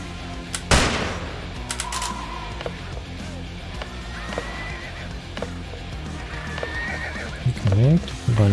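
In a video game, a horse whinnies loudly near the start and hooves clip-clop, mixed with sharp gunfire-like bangs and game effects, while someone talks over it.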